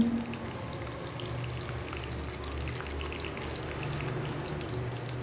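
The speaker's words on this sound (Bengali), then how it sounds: "এখন আমি কড়াইতে সরিষার তেল লবঙ্গ ছোটো এলাচ জিরে তেজপাতা শুকনো লঙ্কা ফোড়ন দিয়ে দিচ্ছি" Whole spices, including cloves, green cardamom, cumin, bay leaf and dried chilies, temper in hot mustard oil in a wok. They make a soft continuous sizzle with faint crackles and pops throughout.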